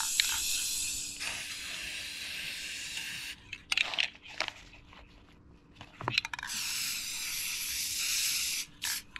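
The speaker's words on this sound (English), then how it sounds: "So here's this Rust-Oleum Premium Lacquer paint that I'm putting on." Rust-Oleum Premium Lacquer in rugged black hisses steadily from an aerosol can onto a ladder stand seat, in two long close bursts split by short pauses, rattles and handling clicks.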